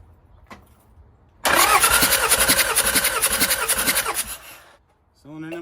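An engine cranks for about three seconds with a steady rhythmic chug of the starter during a cylinder compression test, loud and close, with a brief voice after it stops.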